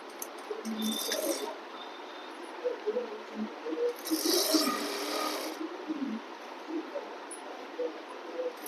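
A sewing machine stitches a rolled belt on a pair of trousers, two short whirring runs of needle clatter separated by quieter handling sounds.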